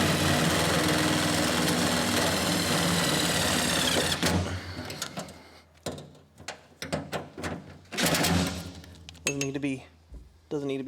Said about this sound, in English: So I'm just going to tack screw it to the sheet metal